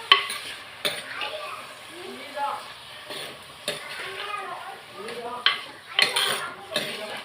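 Cut eggplant sautéing in hot oil in a pan for a mashed eggplant kuzhambu, a light sizzle broken by repeated spoon clinks and stirring scrapes, with a voice speaking over it at times.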